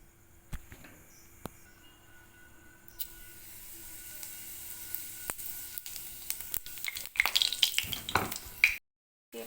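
Chopped onion going into hot oil already tempered with cumin seeds and dried red chilli: scattered ticks and pops give way to a rising, crackling sizzle near the end, close and moderately loud, then a sudden cut to silence.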